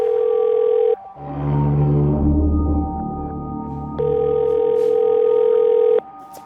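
An unanswered phone call rings through a handset: steady electronic ring tones in two long bursts with a gap of low humming noise between them, loud and close, no voices.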